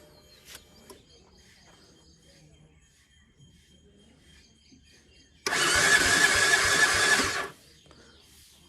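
A KTM motorcycle engine cranks and roars loudly for about two seconds, then cuts out, after a quiet stretch of faint background noise.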